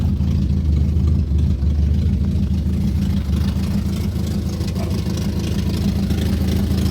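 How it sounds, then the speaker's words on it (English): A Triumph Spitfire's engine runs with its exhaust knocked off, giving a loud, raw, blatty rumble that stays steady and close throughout, with slight surges in the idle. "But the exhaust is knocked off, that's the noise you can hear."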